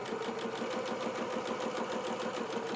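A sewing machine stitches a fully lined doll jacket, its needle running in a fast, even mechanical rhythm that stays steady and fairly close throughout.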